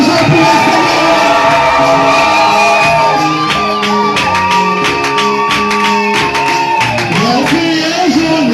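A worship congregation at a Sunday praise meeting shouts and whoops loudly to the Lord, many voices overlapping in sustained, dense cheering with rhythmic accents throughout.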